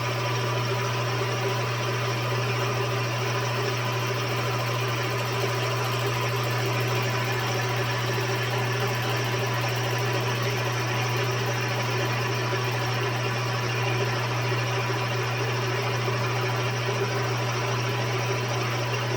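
A Husqvarna 357XP chainsaw engine runs at a steady high idle after timing work, still shaving a little aluminum, giving a loud, unbroken mechanical buzz with a strong low hum for the whole stretch.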